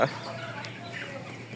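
Broiler chickens, 17 days old, cluck softly nearby, a few short calls over steady background noise with no talking.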